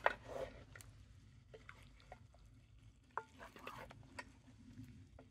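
Meat with onion and paprika being stirred in a kettle, giving soft scraping and squishing strokes with a faint sizzle beneath and a few sharp clicks of the utensil.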